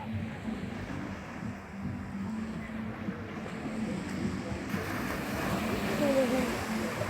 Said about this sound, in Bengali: কত সুন্দর ঢেউ মারছে।